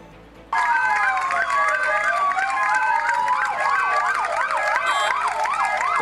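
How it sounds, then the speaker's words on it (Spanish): Several ambulance sirens wail loudly together at a memorial tribute in Santurce, their overlapping rising and falling tones starting abruptly and continuing steadily, with a crowd murmuring underneath. "sirenas de ambulancias y aplausos"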